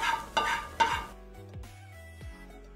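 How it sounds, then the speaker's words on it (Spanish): Dressing is added to wheat and potato boiling in a pot, giving a few loud stirring scrapes and splashes at first, then quieter bubbling and clinks from the pot. "ahora vamos a agregar este aderezo a nuestro trigo que ya está hirviendo"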